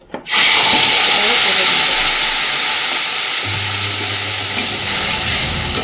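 Spice paste of nigella seeds, green chili, turmeric, salt and chili powder frying in hot oil, giving a loud, steady, close sizzle and hiss that starts abruptly and continues throughout, with a low hum joining partway.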